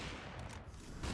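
AWP sniper shots and gunfire in a Counter-Strike match on Overpass, a dense loud burst of crackling game gunfire with no quiet gaps.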